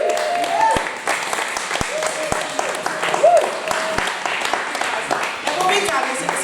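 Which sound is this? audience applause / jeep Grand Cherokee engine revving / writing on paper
audience applause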